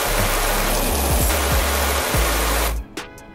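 A pressure washer in PowerWash Simulator sprays water in a loud, steady hiss that runs continuously for nearly three seconds before cutting off abruptly, leaving a quieter tail.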